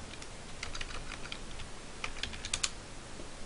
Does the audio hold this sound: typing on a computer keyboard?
yes